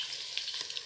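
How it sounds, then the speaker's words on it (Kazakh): Chopped onion frying in oil in a pot for a Kazakh village-style kuyrdak, a soft steady sizzle with small crackling pops, faint and close, without talk. "Мінеке осы 1 жуамызды турап майға қуырамыз."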